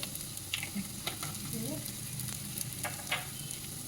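Low steady sizzling in a pan while spices, oregano and mixed herbs are stirred for cream of broccoli, with soft scrape clicks of a utensil throughout.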